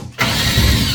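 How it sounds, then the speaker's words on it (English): A power drill unscrews a screw on a Triton AS2000XT thermostatic power shower pump, starting abruptly after a brief silence and whirring loud and steady up close. "And I drill that."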